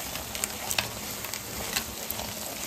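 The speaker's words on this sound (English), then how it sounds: "Now keep stirring this till you get it nice and dry" Carrot halwa with dry fruits stirred in a pan, a soft steady sizzle with scattered scraping clicks from the spoon, close and fairly quiet, no speech.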